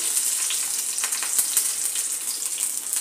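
Green chillies fry in hot oil for Nashik-style kondaji chivda, giving a steady, close, dense sizzle with crackling pops that runs unbroken for the whole stretch, with no voices.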